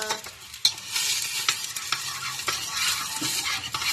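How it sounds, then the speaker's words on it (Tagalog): Prawn noodles stir-fried in a hot pan, a loud continuous sizzle up close with the scrape and clatter of tossing throughout, no voices. "Stir-fry natin siya."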